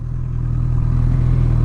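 A 2018 Honda CB1000R motorcycle's big engine and exhaust thrum loudly and close by, with a deep, steady, throbbing idle and no voices.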